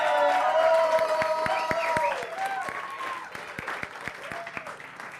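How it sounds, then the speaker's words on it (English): An audience applauds at a comedy talk show taping, with steady clapping that is loud at first, then thins and tapers off. No one speaks. "I want you fine people to keep applauding"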